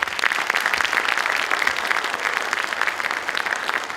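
A school event audience applauds with dense, sustained clapping that holds steady at a fairly loud level for several seconds without any talking.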